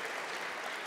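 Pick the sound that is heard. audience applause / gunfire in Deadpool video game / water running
audience applause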